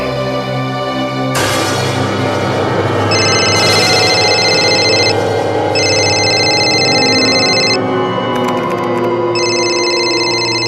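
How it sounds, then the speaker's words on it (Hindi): A telephone rings repeatedly in bursts of electronic trilling, loud and close over a sustained musical drone. "फोन क्यों नहीं उठा रहे?"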